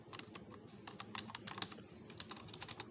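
Keys on a computer keyboard are tapped quickly and quietly while C# code is entered, in irregular bursts of soft clicks with no voice.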